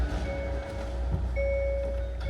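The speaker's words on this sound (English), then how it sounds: "Oh my god, the beeps in modern cars." A 2021–2024 Hyundai Tucson hybrid or plug-in hybrid sounds an electronic warning chime, a steady pure tone held for a moment, breaking off, then resuming, over a low background rumble.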